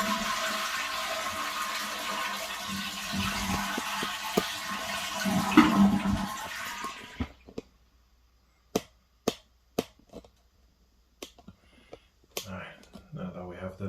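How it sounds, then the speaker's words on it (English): A household toilet flushes loudly in a bathroom during a fill valve replacement, with a long rushing swirl of water that cuts off abruptly, followed by scattered sharp clicks and knocks of handling in near silence. "First we're gonna flush."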